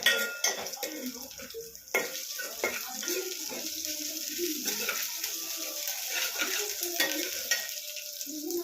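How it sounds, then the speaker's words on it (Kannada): Steady sizzling from a pan with repeated scraping and clinking of a spoon stirring, close and continuous, with no voices. "ಕಲರ್ ಚೇಂಜ್ ಆಗೋ ಥರ ಫ್ರೈ ಮಾಡ್ಕೊಳ್ಳೋಣ"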